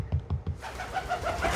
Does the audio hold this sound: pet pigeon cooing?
yes